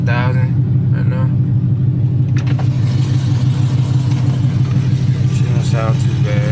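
A car engine with a Mark82 cam idles in a steady, loud, lumpy low rumble that runs throughout, while a person talks briefly over it at the start and near the end.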